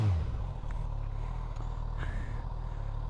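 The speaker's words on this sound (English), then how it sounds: "I'll give that a bit of rev" Suzuki GSX-S1000F motorcycle engine idling steadily with a low, continuous rumble and a slight rise in revs near the middle, close by, with no voices.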